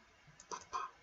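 A few quiet keyboard clicks, two or three light keystrokes in quick succession, faint and close with no voices.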